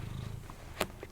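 A cat purring nearby, a low soft rumble under a quiet room with a brief faint click or rustle partway through.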